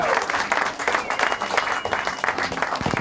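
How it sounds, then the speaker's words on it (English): An audience at a comedy magic show at The Magic Castle in Hollywood applauds, dense steady clapping that stays loud for the whole stretch. "Let's give him a big round of applause as he goes back to his seat."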